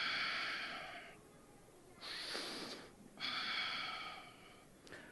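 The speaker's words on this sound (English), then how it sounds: "continue taking deep, slow breaths" Slow, deep breaths taken during a guided stretching exercise, with long airy inhales and exhales alternating steadily and close by, with no talk.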